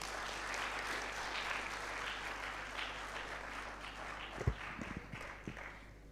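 An audience at a law conclave applauds steadily, a dense, even patter of many hands that holds for several seconds, with a few sharper, louder claps near the end.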